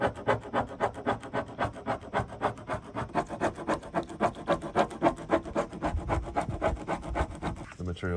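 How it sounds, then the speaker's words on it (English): A plastic razor blade scrapes adhesive goo off the trunk of a Mercedes CLS63 S AMG in quick, rhythmic back-and-forth strokes, close and rasping, about a dozen passes before it stops. "using one of these plastic razor blades"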